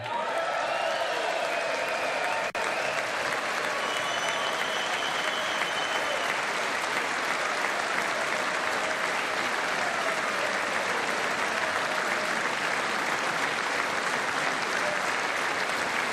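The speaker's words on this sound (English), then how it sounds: "There's way too much clapping." Sustained, dense applause from a large audience in a formal legislative chamber at a State of the Union address, loud and unbroken for the whole stretch with a faint murmur of crowd noise beneath.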